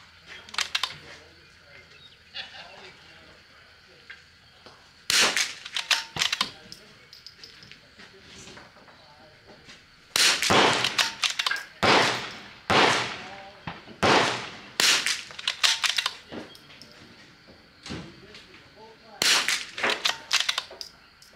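Rifle shots from a Vudoo and a CZ rimfire firing Eley Match ammunition ring out in sharp, separate cracks, spaced a few seconds apart in clusters, with a steady hum behind them and brief bits of talk.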